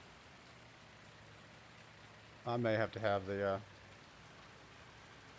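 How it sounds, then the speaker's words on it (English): Steady rain from the Farming Simulator 19 video game, a soft continuous hiss of falling drops running throughout, with someone speaking briefly over it midway. "especially with the rain going on. The rain's kind of distracting."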